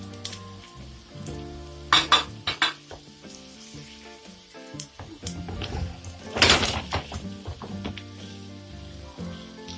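Minced meat sizzles and fries in a pan for karnıyarık, a steady close crackle broken by louder bursts as it is stirred and spread, with clinks of a utensil against the pan.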